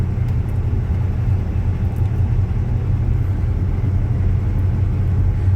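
Old 1966 Chevy C10 pickup with a 4-speed manual, lowered, rumbles along in a steady low drone heard from inside the cab, with no talk.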